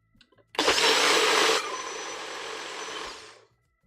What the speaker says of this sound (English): my blender's on the older side, so I always make sure that it isn't coming apart